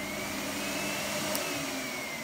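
A Miele S7 vacuum cleaner in floor mode, with the brush roll off, runs steadily at close range with a constant whirring motor drone and airy hiss, no talking over it.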